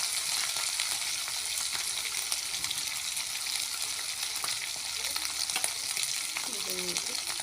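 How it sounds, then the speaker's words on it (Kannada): Mint and coriander paste frying for chicken sukka, a steady, dense sizzle that stays loud and close throughout, with faint stirring underneath and no talking. "ಚೆನ್ನಾಗಿ ಫ್ರೈ ಆಗಬೇಕು"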